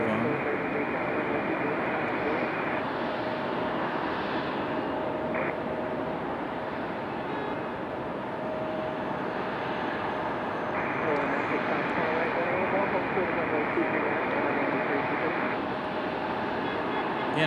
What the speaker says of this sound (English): Frontier out there on the move.